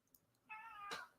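A house cat gives one clear, drawn-out meow close by, rising and holding steady before breaking off, followed by a sharp click at the very end.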